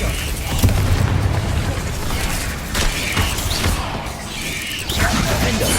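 Confringo fire spell blasts in Hogwarts Legacy, a loud, dense rumbling roar of explosions and crackling bursts continuing throughout amid busy game effects.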